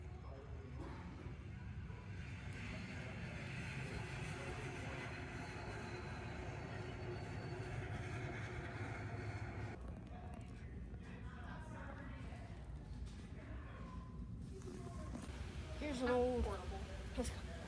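A Union Pacific train whistle sounds near the end at a railfan event in Cheyenne, a short tonal blast rising over steady rumbling outdoor noise and murmuring voices.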